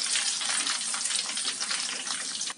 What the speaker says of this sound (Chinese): 所以我们只要油温高一点，给它炸到表面金黄就可以了